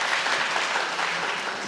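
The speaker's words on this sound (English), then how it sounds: "May I ask Professor Vladik Krajinovic to rise to receive our applause of thanks." An academic conference audience applauds a professor, a dense, even wash of clapping that holds steady briefly.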